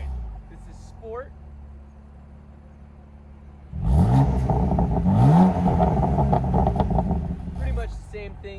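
A BMW F80 M3 in Sport mode idles low, then its exhaust rises into a loud rev with a rising and falling engine note and a gurgling crackle, close by, with a voice under it.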